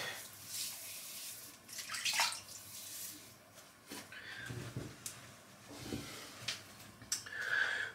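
Water splashes and trickles as a man wets his head at a basin before shaving, with soft irregular splashes, drips and rubbing, quiet and close with no talking.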